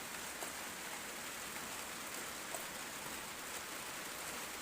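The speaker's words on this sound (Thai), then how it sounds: "ยามมื้อเช้าฝนตกบรรยากาศดีหลายพี่น้องอากาศเย็นหนาวดี" Morning rain on a farm garden of taro and cassava plots during the first rain of the season: a soft, steady hiss of drops falling evenly, faint and continuous, with no voices.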